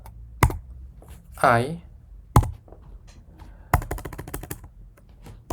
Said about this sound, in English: you can type again the similar command ssh